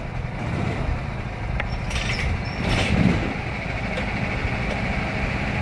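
Go-kart engines at a kart track running together, a steady, dense rumbling drone with a slight swell near the middle, moderately loud and close, with no clear talk.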